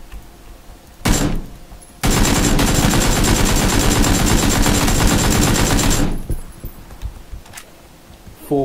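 Sustained automatic AK rifle fire in the battle royale game PlayerUnknown's Battlegrounds: a single loud shot, then about four seconds of continuous rapid bursts, loud and close, with quieter game ambience before and after.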